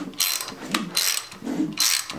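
A hand ratchet cranks over a small-block Chevy engine fitted with a low-lift cam, making three close bursts of rapid metallic clicking with brief pauses between pulls.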